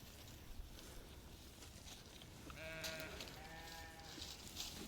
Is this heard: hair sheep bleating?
yes